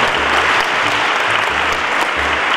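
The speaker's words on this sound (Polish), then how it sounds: "Proszę o szczególne oklaski dla pani Beaty." Audience applause at a patriotic vocal concert in Cicibórz Duży, a loud, steady clatter of many hands clapping continuously throughout, with no talking over it.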